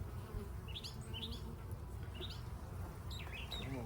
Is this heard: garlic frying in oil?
no